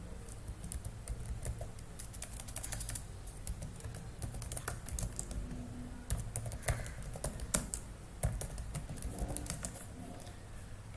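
Computer keyboard keys being typed in uneven bursts, close and fairly quiet, with scattered sharper clicks over a low steady background hum and no voices.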